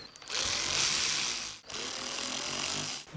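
A ratchet tightening the transmission bracket bolts on a 2013-2019 Subaru Outback during a solenoid replacement, a steady close-up clicking run that pauses briefly midway, then resumes.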